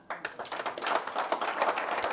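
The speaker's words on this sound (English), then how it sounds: "I think that deserves a round of applause." Audience applause at a ministerial presentation during Argentina Week in New York, starting abruptly and building into a brisk, close clatter of many clapping hands.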